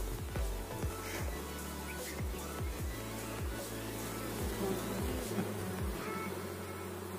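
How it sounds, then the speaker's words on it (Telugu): Bees swarm around a wild forest honeycomb, a continuous close droning buzz with individual insects whizzing past the microphone in repeated sweeping passes, no talking. "కొన్ని కొన్ని వస్తున్నాయి ఈగలు, వాళ్తున్నాయి"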